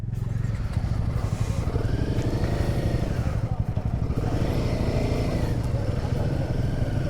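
A large group of motorcycles rumbles past on a mountain road in Spiti, a loud, continuous engine drone with throttle swells as the bikes go by close at hand.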